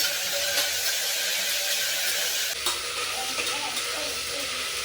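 Chillies stirred and tossed in a hot pan, giving a steady close sizzle with scraping strokes of the spoon throughout and no talking.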